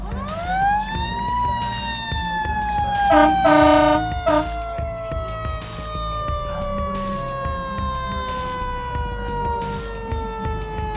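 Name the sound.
fire truck siren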